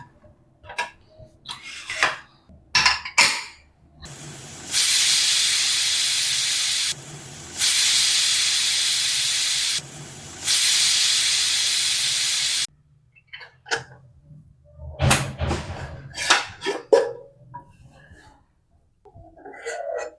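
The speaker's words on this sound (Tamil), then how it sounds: "மூடி போட்டு ஒரு 3 விசில் வச்சா போதும்." A pressure cooker cooking mutton vents three loud, sustained bursts of hissing steam, each a few seconds long with brief gaps, framed by clinking kitchen sounds and short taps before and after.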